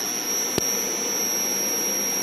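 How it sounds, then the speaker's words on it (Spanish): An air conditioner running on inverter power gives a steady, loud broadband hum with a constant high whine, interrupted once by a brief click. "ahí tenemos nuestro aire acondicionado."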